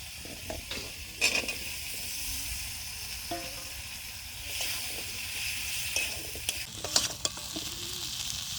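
Chunks of desi yam tipped into a sizzling, well-fried spice paste in a pan, with a steady hiss broken by irregular scraping and clattering strokes of stirring, close by and moderately loud.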